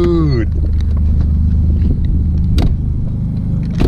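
A car running an anti-lag two-step launch control rumbles loudly close by after a rising rev at the start, with a couple of sharp exhaust pops cracking through the deep, steady engine drone.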